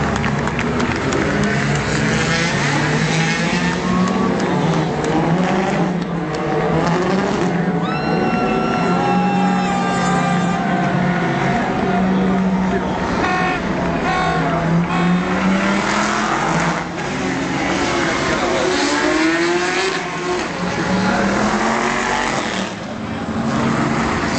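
Race cars start the 2013 24 Hours of Le Mans. Loud engines howl continuously, rising and falling in pitch as the cars accelerate and pass close by.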